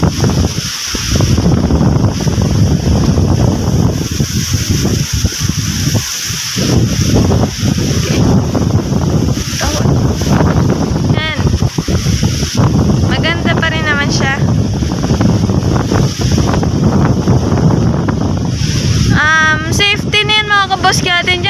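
Strong northeast monsoon wind roars across the microphone over a rough, angry sea, a steady loud buffeting rush throughout, with a boat's presence and voices talking over it.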